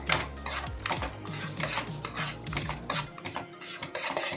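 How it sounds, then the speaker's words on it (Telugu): Semolina (Bombay rava) roasting in ghee in a pan is stirred with a utensil, giving quick, rhythmic scraping and clinking against the metal, close and fairly quiet with no talk. "కొద్దిగా కలర్ చేంజ్ అయ్యే వరకు బొంబాయి రవ్వను వేయించుకుందాం."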